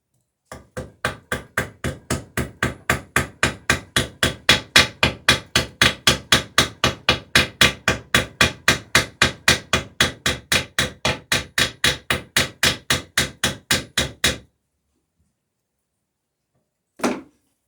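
Rivets hammered into the frame of an Alpha Dory boat: a long run of about fifty sharp, evenly spaced metallic blows at a brisk steady rhythm, then silence and one last isolated strike.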